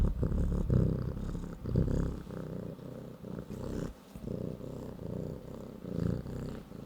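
A house cat purring close up, a soft low rumbling in steady repeating breaths that swell and fade in rhythm, with faint background sound beneath.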